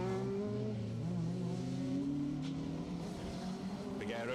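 A Honda Civic rally car drives flat out along a circuit rally stage, its engine loud and rising through the revs in a steady, sustained howl.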